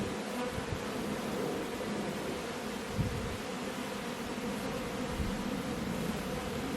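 Crowds of honey bees buzz around an open hive as frames are pulled for a bare-handed honey harvest, a thick, continuous droning hum close by, with a few soft knocks.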